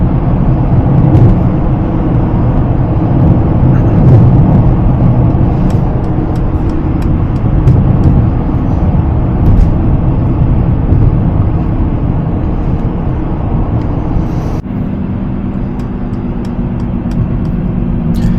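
A Mercedes-Maybach GLS 600 on the move gives a steady, loud low rumble of road and engine noise from inside the cabin, easing slightly near the end, with no talking.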